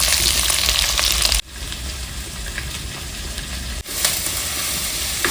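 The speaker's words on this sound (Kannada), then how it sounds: "ಈಗ ಈರುಳ್ಳಿ ಸ್ವಲ್ಪ ಫ್ರೈ ಆಗಬೇಕು, ಅಲ್ಲಿವರೆಗೂ ಫ್ರೈ ಮಾಡ್ಕೊಳ್ಳಿ" Onions and green chillies frying in a pan, a loud continuous hiss and crackle that dips briefly in the middle before rising again.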